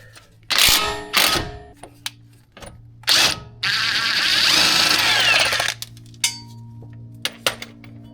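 Power tool, likely an impact driver, working an 18 mm sway bar bolt on the front strut of a 2007–2011 Acura MDX or Honda Pilot: loud close whirring bursts, then a sustained rattling run, then short blips.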